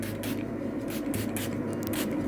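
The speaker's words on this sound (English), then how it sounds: "I'm just going to go ahead and mist real quick" A makeup setting spray mists lightly onto a face in a few quick pumped bursts, a steady close hiss with soft puffs and no talking.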